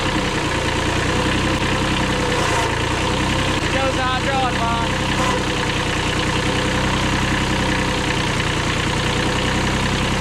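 Old Japanese tractor engine running steadily with a loud, continuous rumbling idle and slight knocking, close by, with a brief voice in the middle.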